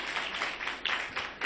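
Scattered hand clapping from a congregation during a Baptist church Sunday service, a brief ripple of applause at moderate distance with uneven, overlapping claps.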